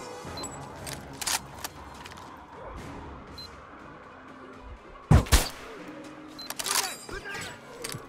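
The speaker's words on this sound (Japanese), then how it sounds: "なんか発砲音が遅れて聞こえるな。" Gunfire in the video game Metro Exodus: a single loud sharp report stands out midway, followed by a few fainter shots and impacts against a low ambient game soundscape.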